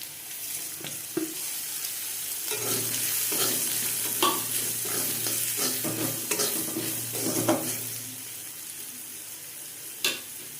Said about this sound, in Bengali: এবার সব মশলাগুলো দিয়ে দিচ্ছি